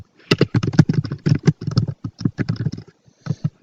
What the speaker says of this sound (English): I'm just going to type a simple sentence